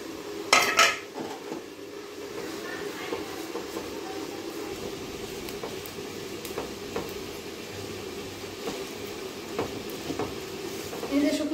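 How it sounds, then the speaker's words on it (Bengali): Dry spices (bay leaf, dried red chilli, coriander, cumin and fenugreek) being toasted in a pan, with a sharp metallic clatter near the start, then a steady low kitchen hiss and occasional soft clinks of a utensil. "এক এক করে দিয়ে একটু ভাজা নেব"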